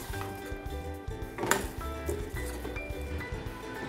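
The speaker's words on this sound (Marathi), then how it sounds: "सगळं छान मिक्स करून घेऊया." A spoon stirs cooked chickpeas into masala gravy in a pan, with scraping clinks against the metal and soft squishy sounds, close and continuous.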